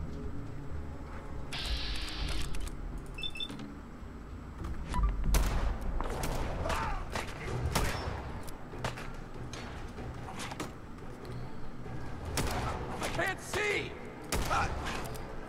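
Rapid gunfire from a firefight in Fallout 4, sharp repeated shots and bursts ringing out across the scene amid game effects, with a player talking over the action.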